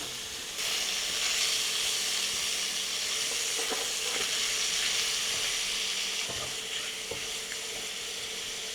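Pork belly (liempo) frying in hot cooking oil, a steady close sizzle and hiss that runs on evenly, with a few faint clicks of stirring and no voices.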